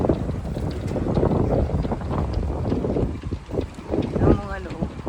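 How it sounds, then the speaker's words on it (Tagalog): Strong wind buffets the microphone in low, rumbling gusts that last throughout, with faint voices underneath. "Hindi siya masyadong mainit dahil malakas ang hangin."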